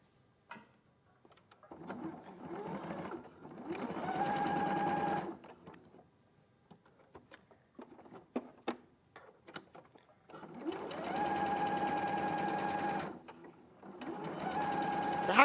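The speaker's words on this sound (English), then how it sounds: "So how do you get your top stitching straight? So what I'm actually doing is I'm using the original seam as my guide." A sewing machine top stitches along an original seam in two long steady runs, with a short burst between and a quieter pause of handling noises, sounding close and fairly loud.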